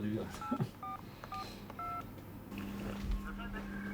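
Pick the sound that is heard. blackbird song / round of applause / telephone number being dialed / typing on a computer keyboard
telephone number being dialed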